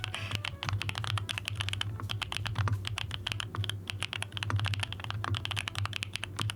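Fingers typing quickly on a mechanical computer keyboard, a dense, steady stream of crisp close-up key clicks with a low hum underneath and no talking.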